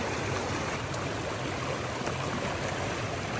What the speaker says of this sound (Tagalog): Maya-maya pa ay narating na nga namin yung ilog.